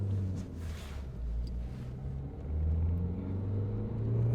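A 2010 Nissan Qashqai dCi diesel with an air mass meter fault accelerating, a low engine rumble that rises and holds steady, heard from inside the car without talking.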